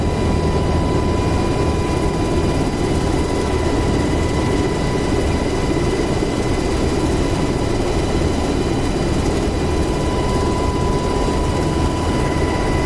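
A UH-60L Black Hawk helicopter lifts off in DCS World, its engine and rotor giving a steady, loud, broadband roar with a constant high turbine whine running unchanged for the whole stretch, with no talking.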